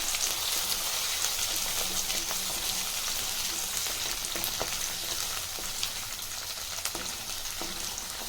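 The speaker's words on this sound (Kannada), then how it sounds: "ಇದು ಸ್ವಲ್ಪ ಚೆನ್ನಾಗಿ ಫ್ರೈ ಆಗಬೇಕು." Soaked green peas frying in a pan, a steady crackling sizzle like light rain with occasional sharp pops and faint stirring, close and constant, no one talking.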